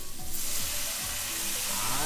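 Steady loud sizzling of soy sauce poured onto the hot sides of a pan of sautéing mushrooms, with faint scraping of stirring underneath, continuous throughout.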